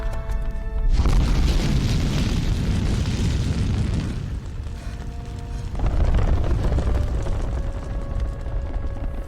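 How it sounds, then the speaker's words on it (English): A huge rocket launch blast from the animated film The Incredibles, a loud sustained roar and rumble that starts abruptly, dips briefly midway, then surges again, with no talk over it. "the launch pad for Syndrome's rocket was actually built into that safe cave Helen left her two kids in"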